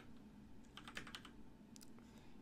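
Quiet, close keystrokes on a computer keyboard, a short quick run of clicks and then a couple of further taps over a low steady hum.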